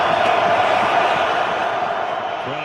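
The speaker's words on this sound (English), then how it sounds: "Crowd roaring." Loud, continuous roar of a football stadium crowd at a Packers versus Bears game, a dense, steady wall of cheering that holds throughout.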